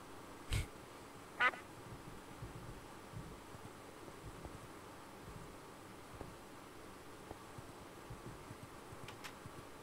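Two short duck quacks from a Minecraft duck pet, loud and close early on, then a faint hum with tiny clicks for the rest.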